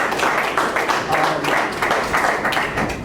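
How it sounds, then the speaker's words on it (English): An audience applauds at an NFL draft preview event, with steady clapping of moderate loudness that continues for a few seconds with no voices over it. "everyone give a round of applause for JD"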